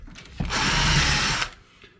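A power drill spins up and bores through a wooden shim while installing a custom entertainment center wall unit, one steady whirring burst of about a second, close and loud, then winding down.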